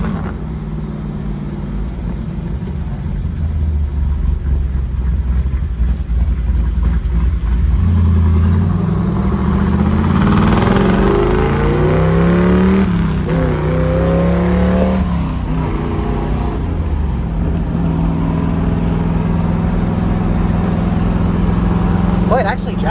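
A 1969 Chevrolet Camaro Z/28 with its original 302 small-block V8 idles with a deep, loping rumble, then revs and accelerates hard, the engine note climbing loudly through gears before settling back to a steady drone, heard from inside the car.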